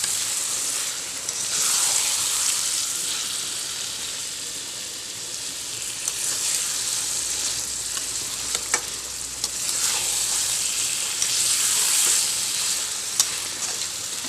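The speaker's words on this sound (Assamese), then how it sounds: "এতিয়া মই লৰাই ল'ম।" Brinjal, potato and masala frying in a pan, a continuous loud sizzle with repeated scraping stirs swelling and fading throughout, no voices.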